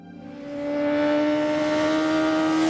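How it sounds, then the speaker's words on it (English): A BMW S 1000 R naked motorcycle's 1-liter four-cylinder engine revs up to a loud, steady high-pitched howl through its exhaust, heard up close and alone. "The imposing sound of the 1-liter 4-cylinder engine is channeled through an almost delicate-looking exhaust"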